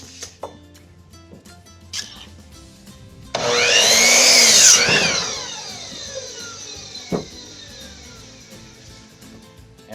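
A power saw cuts a 2x4 board to length for a beehive stand. It gives one loud, close, roughly two-second whining cut that then winds down, with quieter shop clatter and knocks before and after.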